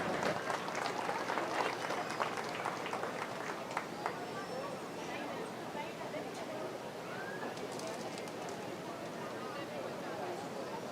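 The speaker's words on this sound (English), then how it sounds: "Let's give those kids a round of applause." Audience applause at a 4-H fair swine show for the winners, steady clapping from a crowd in a large hall, moderately distant, with a faint voice underneath.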